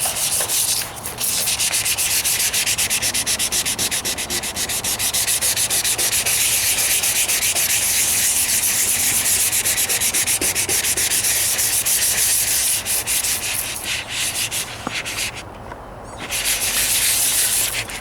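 Wet sanding on the hood of a 1998 Toyota Corolla, a continuous close, loud abrasive rasp of paper scrubbing painted metal, steady for most of the stretch with a brief pause near the end before resuming.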